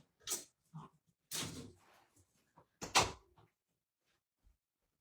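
A room door opened and shut to let a cat named Morty out: a few thumps and a latch click in quick succession, close and fairly loud, separated by short quiet gaps.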